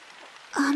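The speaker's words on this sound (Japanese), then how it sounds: "雨だ。" Rain starts falling in the video game Zettai Zetsumei Toshi 4 Plus, a sudden hiss of steady downpour that swells in partway through and keeps going, loud and close, with a low sustained tone underneath.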